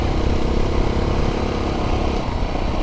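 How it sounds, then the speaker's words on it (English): A motorbike engine rumbles loudly and steadily as it rides along, a rough continuous drone with no voices. "doing it on a motorbike, it's just amazing"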